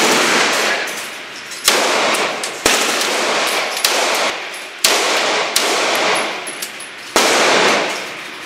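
Video game gunfire in Battlefield, sharp loud rifle shots cracking out about every second or so, each followed by a bright ringing decay, with no talk over them.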